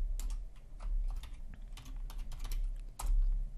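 Keys clatter on a computer keyboard as a folder name is typed in map-making software, bursts of close, crisp clicks in quick uneven runs with brief pauses, no voices.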